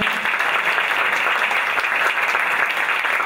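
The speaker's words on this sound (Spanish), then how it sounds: "Camina, ustedes siguen aplaudiendo" Steady, sustained applause from a stand-up comedy show audience, dense and continuous clapping with no break, filling the room at even loudness throughout.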